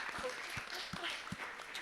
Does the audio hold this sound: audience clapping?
yes